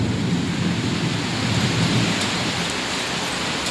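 Steady heavy rain pours down in Nayapalli, Bhubaneswar, a dense continuous hiss with low thunder rumbling beneath it, loud and constant throughout with no talking.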